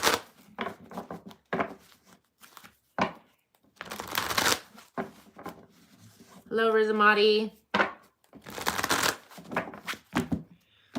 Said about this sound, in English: I'm going to move into fire after I am done shuffling